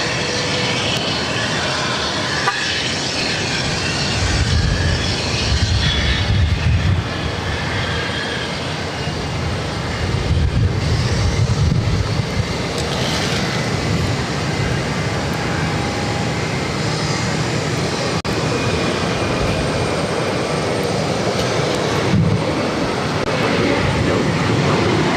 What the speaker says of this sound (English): Airways 1324 taking off to Martha's Vineyard on an E190.